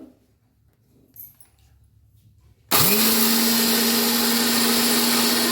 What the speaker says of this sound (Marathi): मिक्सरला लावून घेऊया बारीक करून